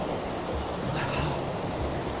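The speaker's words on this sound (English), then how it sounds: "deafening noise of the waterfall. It's just behind me here" Steady roaring rush of a waterfall heard from close by, a dense continuous wash of falling water that holds level throughout, with no voices over it.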